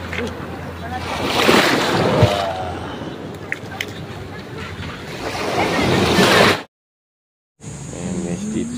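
Sea waves washing onto a sandy shore at Morong, Bataan, with steady surf roar and wind buffeting the microphone, people talking nearby, then a brief cut to silence before the surf returns.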